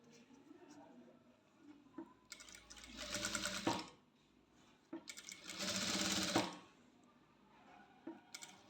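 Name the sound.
sewing machine stitching a maxi dress top neckline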